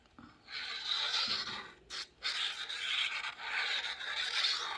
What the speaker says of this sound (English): I'm going to apply glue to the back of the tab